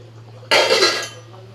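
A metal lid lifted off a pot of simmering potatoes with fish about to go in, giving one short, close clatter and a rattling ring that fades over half a second, set against a low steady hum from the stove.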